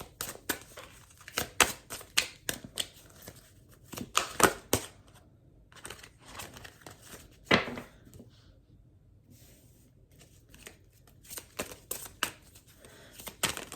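Tarot cards are shuffled and handled in a rapid run of crisp riffling clicks and flicks, then a pause before another burst of quieter card snaps, close and fairly loud.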